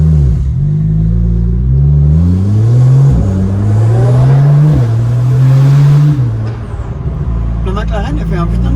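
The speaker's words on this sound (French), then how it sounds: "Le McLaren, il a fait un putain de bruit, hein." A McLaren supercar's engine revs loud and close, the pitch climbing and dropping through several acceleration pulls before fading into road noise, with a voice briefly heard near the end.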